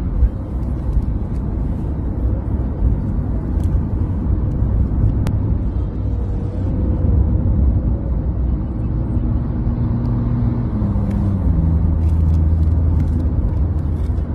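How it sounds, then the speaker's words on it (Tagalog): Cars passing fast along a road, a steady loud whir and rumble of traffic throughout with engine tones rising and falling as vehicles go by close. "Ang bibilis ang mga sasakyan, nasa standard na takbo ba."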